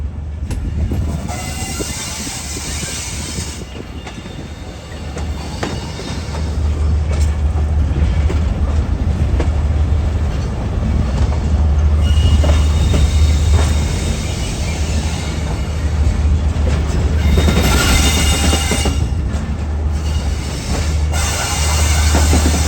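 The Bolan Mail passes very close alongside, a loud, sustained rumble of rolling wagons with rhythmic wheel clatter and brief horn blasts, building and holding for over twenty seconds with no talk.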